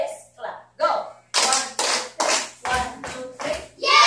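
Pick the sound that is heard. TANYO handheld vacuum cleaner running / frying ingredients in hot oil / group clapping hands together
group clapping hands together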